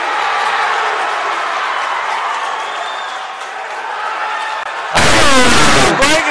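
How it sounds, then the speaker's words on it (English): A fight crowd at a live bout roars and cheers wildly, a dense sustained wall of noise that surges into an even louder burst of yelling near the end. "This crowd is going nuts"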